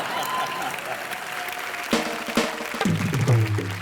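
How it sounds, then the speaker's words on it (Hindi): Studio audience applause breaks out on a Hindi TV entertainment talk show, a steady wash of clapping that swells louder over the last seconds, with a voice speaking briefly over it. "बिना पंच के ताली बजा देते लोग"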